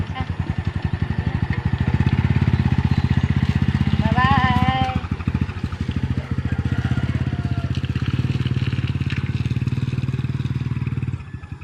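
A small motorcycle ridden in San Miguel, Bohol, its engine chugging in a rapid, loud, steady pulse throughout, close to the microphone, with a brief voice and a short call over it midway.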